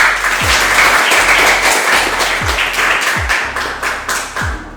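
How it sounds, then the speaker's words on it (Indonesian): Students in a classroom applaud together, a dense steady wash of clapping held for several seconds, with a few low thumps scattered through it and no one talking over it. "Oke, beri tepuk tangan."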